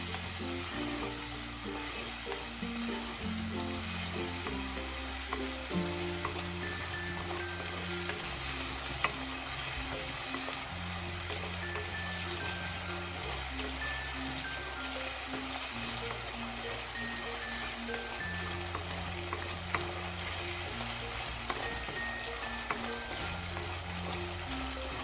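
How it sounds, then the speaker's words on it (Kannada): Ground spice masala frying in hot oil in a clay pot for mackerel fish curry, a steady close sizzle and crackle running throughout with no talk, under continuous background music. "ಪುಡಿ ಮಸಾಲೆ ಹಾಕಿದ್ಮೇಲೆ ಚೆನ್ನಾಗಿ ಒಂದ್ಸರಿ ಮಿಕ್ಸ್ ಮಾಡೋಣ."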